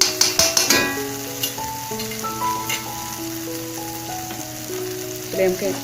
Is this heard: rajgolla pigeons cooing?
no